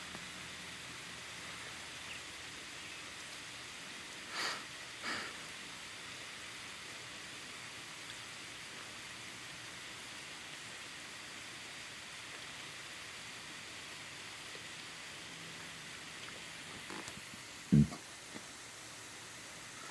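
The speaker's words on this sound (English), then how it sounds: "Rain's starting to calm down a little bit." Light rain falls steadily as it eases off, a soft, even hiss throughout with a couple of faint knocks and a brief sharp tap near the end.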